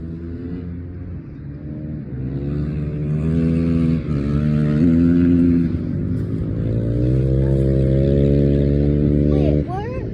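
A motocross dirt bike engine revs and rides on a frozen lake, loud and close, its pitch climbing and dropping through gear changes over a steady low rumble before cutting back near the end.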